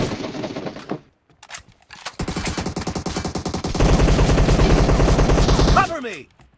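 Dense automatic gunfire in a shooting video game, loud and continuous rapid bursts after a brief pause, swelling heavier near the end before cutting off, with a shouted game voice line heard briefly.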